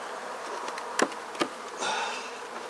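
Honey bees buzzing steadily at an open beehive during an inspection, a colony heavily infested with hive beetles, with a continuous close hum and a few brief sharper knocks.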